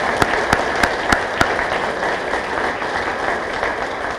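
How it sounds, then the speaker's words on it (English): Applause at a police retirement celebration, a few sharp distinct claps standing out at first over a thinner, steady patter of hands that carries on to the end. "So if we could give all them a round of applause."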